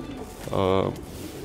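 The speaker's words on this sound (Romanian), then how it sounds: "avem foarte mulți porumbei cu sânge Stichelbau Franz Labef" Domestic breeding-loft pigeons coo once in a short rolling burst, close and fairly loud, with a faint low murmur before and after.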